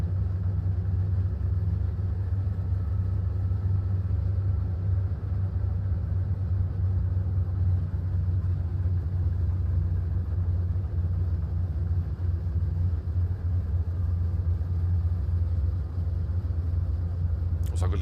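SAAB B17 warbird in Microsoft Flight Simulator 2020 idling on the ground, a steady deep engine rumble holding evenly throughout with no change in pace.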